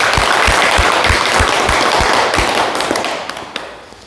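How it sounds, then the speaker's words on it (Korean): An audience at a Korean teaching session claps loudly in a dense, even wash that carries steady low thumps early on, then thins and fades toward the end. "큰 박수 부탁드립니다."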